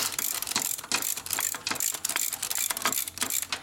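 A ratchet wrench clicks in fast repeated bursts while working on a 1942 Harley-Davidson WLA 45ci flathead sidevalve engine, the sharp close ticking rising and falling in rhythmic strokes with no talking.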